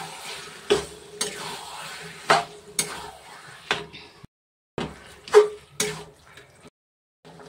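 Marinated mutton goes into hot oil in a pan, with sharp intermittent clanks and scrapes of a spoon against metal over a sizzling background, several distinct hits separated by brief pauses.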